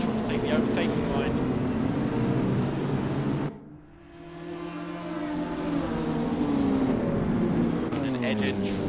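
GT4 race cars roar around Daytona in a sim racing game, loud sustained engine drone with shifting pitch, a brief dip as gears change, then engines swell again; a commentator talks over it throughout.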